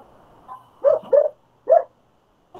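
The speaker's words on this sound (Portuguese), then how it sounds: "desliga esse áudio, o cachorro tá latindo" A dog barks nearby three or four times in short, separate yips during an online class, with brief gaps between barks and a quiet background.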